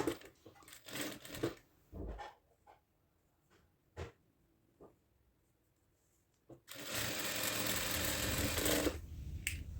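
A sewing machine stitches a small folded fabric strap about two inches wide for a pouch: a few scattered handling clicks and taps, then a loud, steady, close run of stitching for a few seconds near the end, with no talking.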